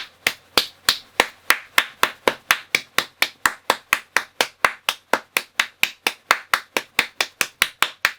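One person claps steadily and evenly, about three claps per second for eight seconds, close and crisp with no voices, applauding a Taskmaster UK contestant.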